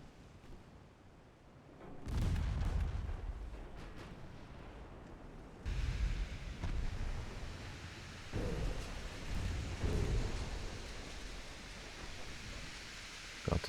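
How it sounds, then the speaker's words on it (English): Torpedo hits and shell explosions on warships in Ultimate Admirals: Dreadnoughts, a series of deep booming blasts at about 2, 6 and 8-10 seconds, each followed by a rumbling tail, with no talking. "Got some torpedo hits here."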